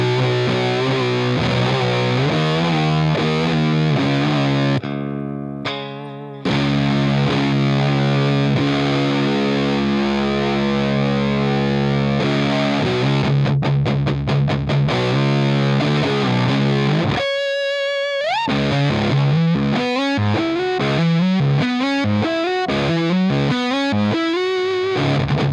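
Electric guitar driven hard through a Drunk Beaver Bat Cold War RAT-style distortion pedal, with saturated chords, quick muted chugs, a brief gap and sliding lead bends, loud and continuous with no voices.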